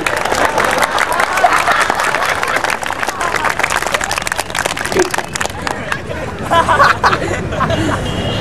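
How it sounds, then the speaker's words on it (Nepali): A crowd applauds with dense, sustained clapping during a spiritual discourse, mixed with chatter and murmuring voices throughout. "गुणिलो हो भने ताली बजाउनु पर्यो"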